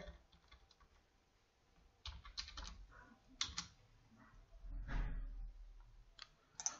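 Rapid keystrokes on a computer keyboard, entered while filling in an online PAN card application, come in irregular bursts of clicks with short pauses, close and fairly quiet.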